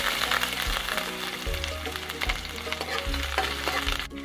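Chopped onion hits hot oil in a wok and sizzles steadily, a close, continuous crackling fry with no talking over it.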